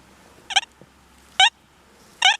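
A Deus metal detector beeps over a dime with the notch set to 80, giving three short warbling tones spaced about a second apart against a quiet background.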